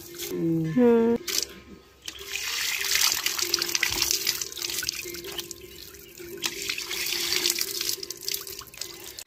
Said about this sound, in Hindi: कुआं बना हुआ है छोटा सा, लड़ाई से दिला दो। पानी निकलता है माँ, गंदा पानी।